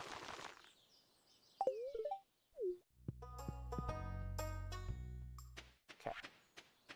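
A phone alert in the farming video game Stardew Valley: a few quick plinking blips, then a bright chiming ring sustained for about three seconds, followed by soft clicks, all fairly faint.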